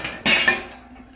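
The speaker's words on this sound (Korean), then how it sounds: "뚜껑 제가 닫을게요." A metal lid on a wood-burning fireplace stove being shut, a single loud clanging metallic impact with a brief ringing scrape that quickly dies away.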